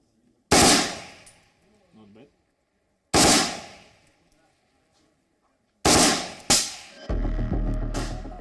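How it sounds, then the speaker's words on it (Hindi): Russian rifle fired on full automatic outdoors: three loud, close bursts of rapid gunfire separated by pauses, each with a sharp crack that rings and decays, the last burst followed by a steady mechanical hum. "अब इसको मैंने फुल ऑटो में डाल दिया, फुल ऑटो में डाल दिया है, यानी ये एक बार फायर ट्रिगर दाबने के बाद ये लगातार फायर करेंगे।"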